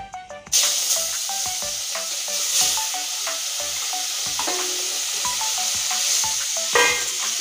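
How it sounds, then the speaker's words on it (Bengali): Whole baim eel fish frying in hot oil in a pan: a loud, steady sizzle and hiss bursts in after a brief moment and carries on close up with small crackles and pops. "পুরো মাছটা একসঙ্গে দিয়ে ভেজে নেব"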